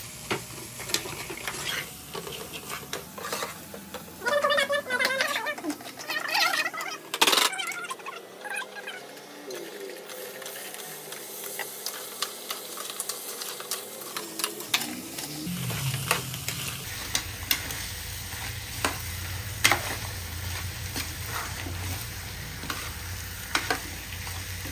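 Masala spices with chilli powder and salt cooking in a pan as they are mixed, giving a long stretch of busy sizzling, scraping and clattering close by, with a quieter, duller patch partway through before the stirring noise resumes.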